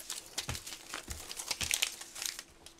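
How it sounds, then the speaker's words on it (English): Tape strips peel up from a paper Valentine's mailbox craft, a series of crinkly tearing and crackling rips with short pauses between them, close and fairly quiet. "And now I can lift up the remaining tape strips"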